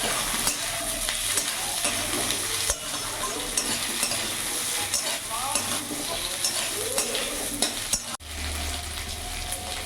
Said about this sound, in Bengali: কিছুক্ষণ পেঁয়াজটাকে লাল লাল করে ভেজে নেবো। এরই মধ্যে কেটে রাখা আলুগুলো দিয়ে দেবো।